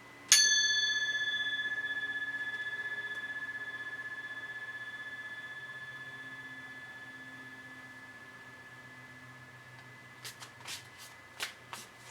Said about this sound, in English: gonna ring my gong.